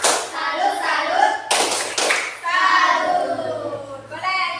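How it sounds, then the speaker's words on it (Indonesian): Children in a classroom group perform a rhythmic clap salute, sharp clustered claps alternating with chanted voices and a teacher speaking. "ayo kalau begitu coba kasih tepuk salut dulu untuk kelompok elang"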